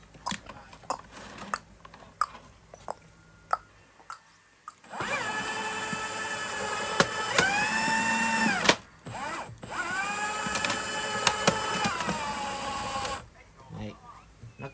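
A Milwaukee 2873 powered fish tape with a brushless motor runs in two long bursts, a loud steady motor whine that shifts pitch as it feeds cable, with scattered clicks and handling noise between runs.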